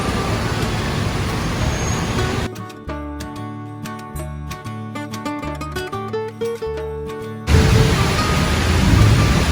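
Heavy rain pours onto a truck caught in traffic, a loud, steady broadband hiss. It drops out midway behind a tonal, music-like passage, then returns at full strength.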